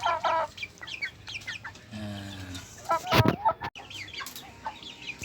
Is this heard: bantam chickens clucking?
yes